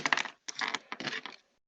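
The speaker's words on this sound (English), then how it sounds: "I just heard somebody throw a pencil" A thrown pencil clatters and skitters on a hard surface in a quick series of light, bright taps and rattles, fairly faint and heard alone.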